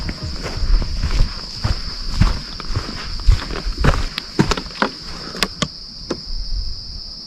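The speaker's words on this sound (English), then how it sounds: "After hearing strange sounds and footsteps nearby, they begin to freak out" Footsteps crunch nearby in the woods at night, a quick uneven series of close, fairly loud steps over leaves and ground, with a steady chorus of insects droning behind them.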